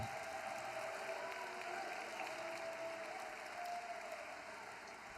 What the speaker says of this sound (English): Sure, clap along.